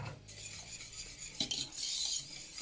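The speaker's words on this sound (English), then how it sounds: "And you continue stirring." A homemade mac and cheese sauce being stirred after four ounces of homemade sour cream go in, a spoon scraping and clinking against the pot in soft, steady strokes with a brief louder knock midway.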